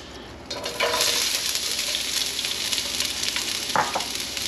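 Onions frying in smoking-hot oil in a wok give a steady, close sizzle with soft crackles and a few brief stirring scrapes, and no one speaks.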